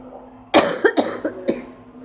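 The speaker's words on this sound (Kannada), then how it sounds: "ನಾನು ಕೆಮ್ತಾ ಇದ್ದೀನಿ" A person coughs at close range, one sharp burst followed by a quick run of four shorter, fading coughs in a quiet room.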